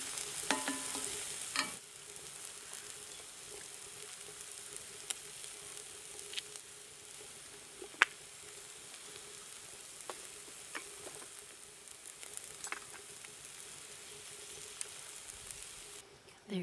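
Eggs and bacon sizzle softly in a cast iron pan on a Red Mountain stove, a steady faint crackle with scattered pops and utensil ticks throughout.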